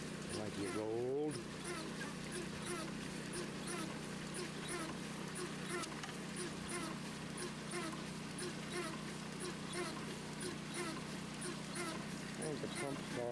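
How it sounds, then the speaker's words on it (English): A pump on a small trommel gold-mining setup in Montana runs with a steady, close droning hum throughout. Brief voices can be heard over the drone. "I think the pump's talking to me"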